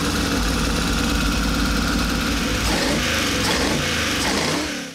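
A hybrid GM small-block V8 with a modern LS top end, Holley carburetor and MSD distributor, running steadily at idle on an engine dyno, a loud continuous low rumble with a slight rise in revs near the end.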